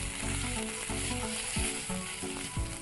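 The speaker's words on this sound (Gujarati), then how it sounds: "હવે આપણે અંદર આદુ લસણ અને મરચાની પેસ્ટ લઈ લઈશું" Ginger, garlic and green chili paste hits a pan of sautéed onions and sizzles steadily, while a spoon stirs and scrapes through the mixture several times, close and fairly quiet.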